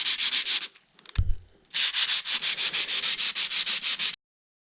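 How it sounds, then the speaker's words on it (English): Sandpaper rubbing back and forth along a wooden ramrod being fitted to a rifle, a fast steady series of close, loud strokes with a short pause partway through. "you would just want to sand it some."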